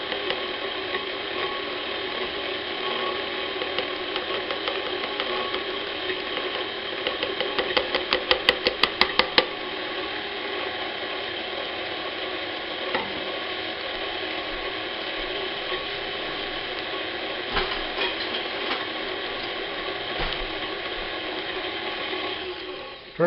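An electric stand mixer beating lemon cake batter, a steady mechanical whir and grind that runs unbroken, with a short burst of rapid clicking partway through and no talking.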